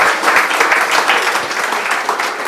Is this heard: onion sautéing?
no